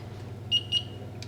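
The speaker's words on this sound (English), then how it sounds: "Okay, so it's beeping." Oven timer on a kitchen oven baking gluten-free, egg-free cookies, giving two short, clear beeps and a faint third over a steady low hum.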